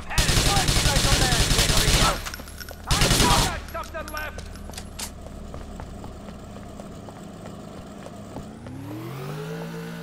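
Bursts of heavy automatic gunfire in GTA 4 rattle loudly for about two seconds, pause, then return briefly before dropping to quieter background action. A vehicle engine revs up near the end.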